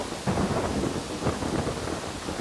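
Heavy rain pours continuously with low rolling thunder rumbling beneath it in the video game Yonder, a dense, loud hiss of downpour with deep swells of thunder and no talk.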